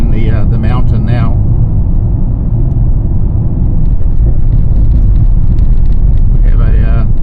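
A Mercedes C180 climbs a mountain road, its engine and tyre noise forming a loud, steady rumble close to the cabin. Short bursts of voice cut in at the start and the end.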